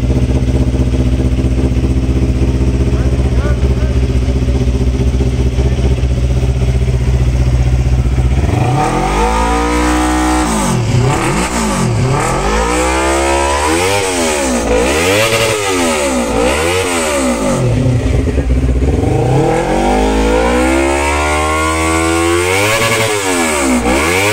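A two-cylinder racing motorcycle engine idles steadily, then revs up and down repeatedly in loud, close, smooth surges, with no talking over it.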